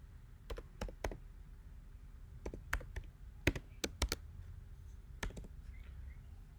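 Keys clacking on a computer keyboard while code is typed for a React JS front end, sparse irregular clicks in short bursts, close and fairly quiet over a low background hum, with no talking.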